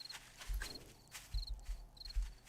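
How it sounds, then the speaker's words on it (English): Footsteps in a survival video game: a few soft, heavy thuds land at an uneven pace, with faint high electronic beeps chiming between them and no talking. "Uh-oh, I hear footsteps."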